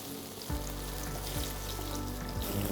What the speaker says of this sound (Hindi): सो ज़्यादा शैलो फ्राई नहीं करना है